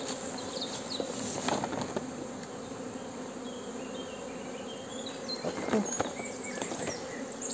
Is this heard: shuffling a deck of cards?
no